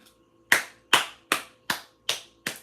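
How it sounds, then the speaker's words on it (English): Six sharp, evenly spaced hand claps ring out alone and fairly close, a slow deliberate rhythm with clear gaps between each clap, at a live-streamed reading session. "Can we get a round of applause for Leo?"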